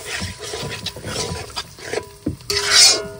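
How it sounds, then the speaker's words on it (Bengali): Potatoes with turmeric and salt being sautéed and stirred in a pan, short scraping and rubbing strokes of a spoon with a soft hiss, ending in a brighter sizzling swell. "সুন্দর করে কষানো হয়ে গেছে আলু"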